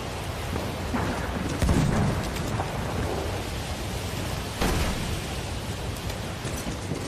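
Thunderstorm in the video game Battlefield 1: steady rain hiss fills the whole stretch while two low thunder rumbles roll in, one early and one later, with no talking.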